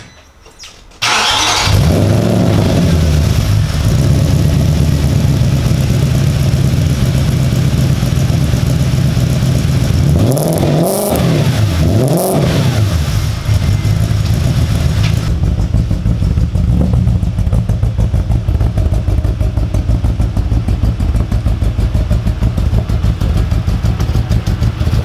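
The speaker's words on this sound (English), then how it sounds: "Cold start, go for it, why not?" An Audi S4 cold-starts with a quick crank and catch, flares briefly, then settles into a steady, fairly high idle that runs on evenly to the end.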